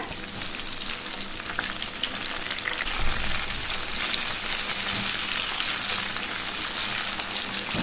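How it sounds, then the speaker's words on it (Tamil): Onions and tomato sautéing in a pan, a steady bright crackling sizzle with a brief rustle of stirring partway through, close and unbroken, with no voices. "வெங்காயத்தை ஒரு நிமிஷம் நல்லா வதக்கிக்கிட்டாச்சு"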